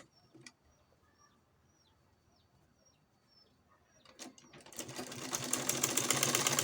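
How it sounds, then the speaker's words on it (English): A sewing machine starts up after a quiet stretch with faint chirping birds, its stitching whir building steadily louder as a pocket is sewn onto a pair of shorts. "So I'm sewing quarter inch here"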